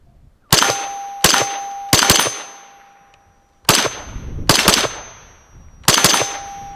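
FN P90 firearm fired outdoors in six sharp, loud, close reports, some in quick pairs, each followed by a ringing metallic clang from a steel target and short decay.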